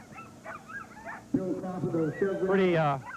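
Sled dogs at the Iditarod ceremonial start in Anchorage, Alaska, yipping, whimpering and barking excitedly close by, mixed with a person talking.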